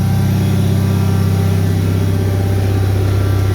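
A Bolens HT-23 garden tractor engine idles through a loud aftermarket exhaust, a steady low throbbing drone close to the mic with no talk.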